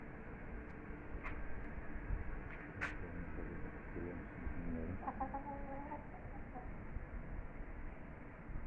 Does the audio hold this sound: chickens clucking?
yes